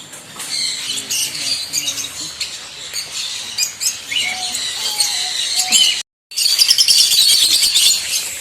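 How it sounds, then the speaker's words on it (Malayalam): Java sparrows chirp nearby with busy, overlapping squeaky calls and tweets, steady and fairly loud, broken once by a brief silence before resuming. "ജാവ കുരുവിയാണ് കേട്ടോ അത്."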